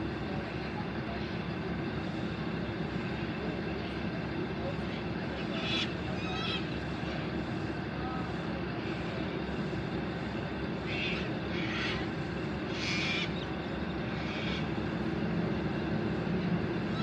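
An NSW Endeavour diesel railcar set, 2805, pulls out of Bowral station bound for Moss Vale, a steady droning engine rumble with faint squeals and clunks of wheels on rails.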